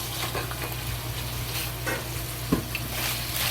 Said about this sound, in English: Slowly fry until the ginger releases good smell